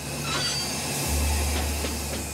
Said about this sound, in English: He can feel the train losing speed. And eventually, it comes to a complete stop.